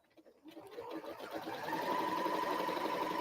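A sewing machine stitches a quilt, starting up after a brief quiet moment and then running in a fast, steady mechanical chatter that grows and holds at a moderate level.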